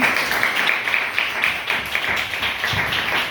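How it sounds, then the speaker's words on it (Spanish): A church congregation applauds in praise during a service, dense steady clapping from many hands close by, sustained without break and with no talk over it. "Dale un aplauso al Señor Jesucristo."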